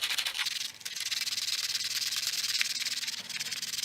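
Sandpaper rubbed by hand over glue on old wood from a 1920s dollhouse, giving close, steady back-and-forth scratchy hissing strokes with no talking.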